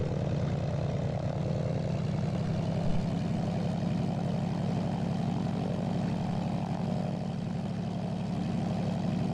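The supercharged propeller engine of a Zlín Z-142 light aircraft holds a loud, steady drone at takeoff power in the X-Plane flight simulator, a continuous engine roar with no voices over it.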